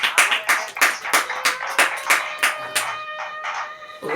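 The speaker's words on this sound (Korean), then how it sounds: "자, 박수로 영광 드립시다" A church congregation claps in rhythm at the close of a service, loud, steady hand claps repeating about every third of a second, with a few voices calling out, fading slightly toward the end.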